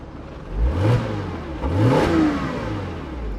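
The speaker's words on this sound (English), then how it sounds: "I think I'll start it up and rev it a few times, because you can actually hear it" A Porsche Boxster's engine revs twice in quick succession, each blip climbing sharply in pitch and then falling away, loud and close with no talking.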